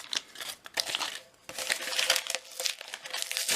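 A paper label is peeled and torn off an empty bean can in short crinkling, ripping bursts with brief pauses between them, close and fairly quiet.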